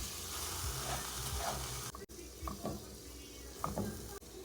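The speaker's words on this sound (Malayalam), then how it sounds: "ഇനി എല്ലാം കൂടെ നന്നായിട്ടൊന്ന് മിക്സ് ചെയ്യുക." Beetroot and dates pickle with vinegar and salt is stirred and mixed in a pan, giving a steady soft sizzle with scraping strokes and a few sharper clicks near the end.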